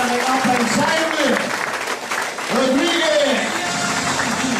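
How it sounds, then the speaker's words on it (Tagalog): Audience applause for a presenter at a business presentation, a dense clapping wash heard under a loud voice calling out over it. "Milyon palakpak para kay Apay Simon"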